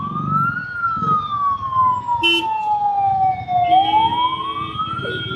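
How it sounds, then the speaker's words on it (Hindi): An ambulance siren wails close by in Bangalore city traffic, its long rising and falling tone sweeping continuously over the rumble of engines and road noise. "ओह एम्बुलेंस एम्बुलेंस गाइस, साइड हो जाओ, मेक वे फॉर एम्बुलेंस।"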